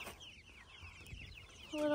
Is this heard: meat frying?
no